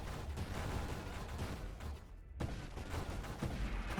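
Dense, continuous barrage of purple radius explosions in a space video game, rumbling bursts piling on one another with a brief dip midway before the blasts resume at full strength.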